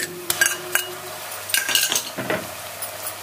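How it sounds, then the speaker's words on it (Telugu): Ginger garlic paste frying in a pan for a spiced cashew mutton curry. A spoon scrapes and clinks against the pan in short bursts over a quiet, steady sizzle. "ఇప్పుడు అల్లం వెల్లుల్లి పేస్ట్ వేస్తున్నాను."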